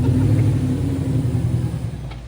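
A Fox body car with a stock Coyote engine rumbles loudly and close during a burnout, a deep, steady engine roar that eases slightly toward the end.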